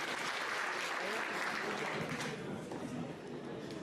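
Audience at a Sierra Leone tourism investment expo in the UK breaks into sustained applause, a dense, steady wash of clapping that fills the room and tapers slightly toward the end.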